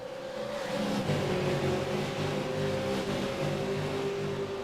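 V8 Supercars in a racing sim at Interlagos roar down the straight, a steady engine drone holding at the same loudness the whole time, with no voices.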